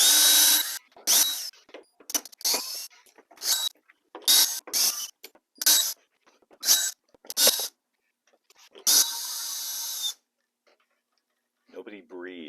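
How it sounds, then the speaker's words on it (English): Screws come out of wall-mounted model railway scenery in a string of short whirring and ratcheting bursts from a driver, close and loud with gaps between them, then one longer burst and a brief voice at the end. "My plan is to remove all of these screws first and then detach it from the wall"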